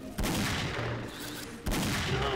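Two loud AWP sniper rifle shots ring out in the game XSHOT, each a sudden powerful blast with a long, heavy rumbling tail, about a second and a half apart.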